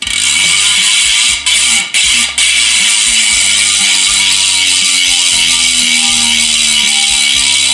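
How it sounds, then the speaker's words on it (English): A lightweight CRW Works CS4045 road bike wheel freehub with a 36-tooth ratchet buzzes loud and close as the wheel spins freely, a fast continuous clicking briefly interrupted twice by short gaps. "what you can hear here is actually a 36 tooth ratchet system"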